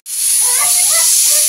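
Pressure cooker whistle releasing steam at a family birthday gathering: a loud, steady high hiss that starts abruptly and holds throughout, with faint tonal whistling wavering beneath it.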